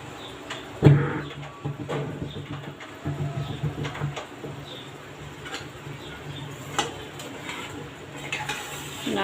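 Fish coated in mustard paste is stirred in a pan, with scraping, clinking spatula strokes and a low sizzle underneath, close by. One sharper knock comes early on.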